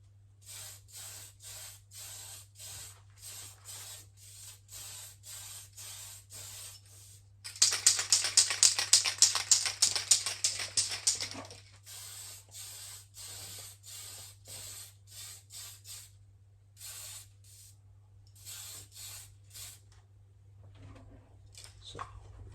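A continuous hiss of spray paint applied in light coats on a replica RC car of a Mk2 Escort RS2000, lasting several seconds, set between many short, evenly spaced hissing bursts, close by with a steady low hum underneath.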